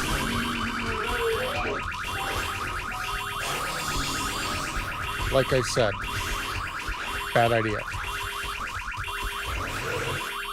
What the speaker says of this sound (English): Cop cars, when you break into them, will always have the alarm, unless you're using lockpicks.